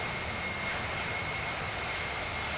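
Steady, unbroken aircraft engine drone during a climb in the Infinite Flight simulator, a broad even roar with a faint high whine, no talk over it.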